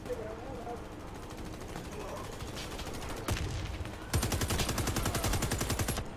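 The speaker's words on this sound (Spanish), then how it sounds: "Hay una escopeta que de dos tiros te mata" Rapid bursts of shotgun gunfire in the video game Warface, growing louder and denser partway through, with a fast rhythmic volley of shots near the end.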